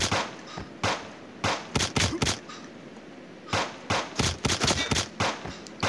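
Gunshots from a video game shooter ring out in sharp clustered bursts, several quick shots at a time separated by brief pauses, loud and close with no talking over them.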